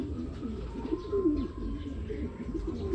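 Pigeons in a loft, including red bars, give soft, low, repeated cooing close by, with faint chirps and a quiet voice in the background.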